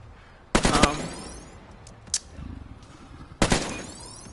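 Gunfire from a VR shooting mini-game during the credits of Killing Floor Biolab: two loud bursts of rapid shots roughly three seconds apart, with a faint single shot in between and low game ambience underneath.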